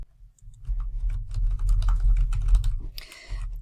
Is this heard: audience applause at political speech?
no